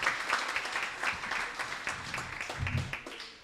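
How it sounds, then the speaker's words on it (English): A dinner audience at Beaches Manor applauds the staff, with a moderate, fairly faint patter of clapping from a modest crowd, steady then tapering off near the end. "give a round of applause to the staff here at Beaches Manor"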